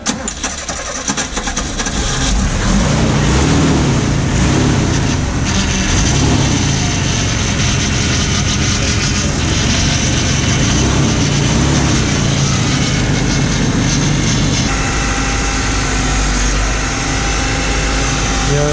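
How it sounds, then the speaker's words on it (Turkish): Nissan Laurel Altima A31 engine cranks and catches, then runs at a loud, rough idle close by for over fifteen seconds, its pitch steadying with a slight shift near the end. "Şimdi marş basacağız."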